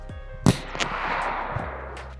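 .22LR rifle fire at a shooting range: one sharp, loud crack near the start and a fainter second report shortly after, followed by a lingering outdoor rumble.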